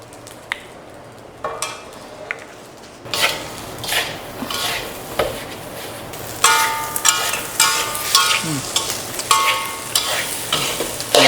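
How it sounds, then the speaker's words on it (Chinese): Seafood fried rice is stir-fried in a wok: a spatula scrapes and clatters against the metal in repeated strokes over a rising, steady sizzle, with sharp clanks punctuating the frying and no talk. "炒到差不多了才放大火的炒一下"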